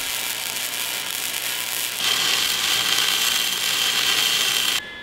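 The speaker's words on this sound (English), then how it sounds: "Now it's time to weld up the angle iron." Angle iron is welded for a heavy metal shop table, a close, steady crackling hiss that grows louder partway through and then cuts off abruptly near the end, with no voices.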